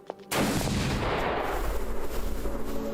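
A single loud sniper rifle shot from the Beyond Citadel video game cracks out sharply after a brief quiet moment, then a long, heavy rumbling echo rolls on and fades slowly.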